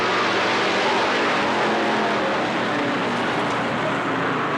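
Race cars roaring around Riverside Speedway (Cottage Grove Speedway) in a 1991 three-lap finish, a steady loud engine drone filling the whole stretch with no break.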